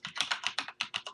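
Code is typed on a computer keyboard in a quick burst of about eight or nine crisp, close keystrokes over roughly one second, with no talking.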